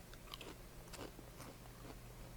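Quiet, close crunching comes from someone biting and chewing crispy root vegetable chips with salsa, a few crisp snaps followed by softer chewing.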